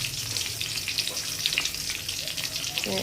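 Two garlic cloves sizzle and crackle in hot oil while koi fish curry is being cooked, a close, steady frying hiss with small popping bursts.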